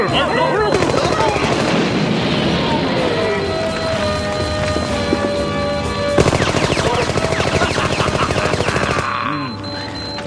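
Rapid machine-gun fire in an animated superhero cartoon (The Tick), a loud, dense rattle of shots that runs throughout over a busy action soundtrack, with the clearest evenly spaced bursts near the end before it cuts off.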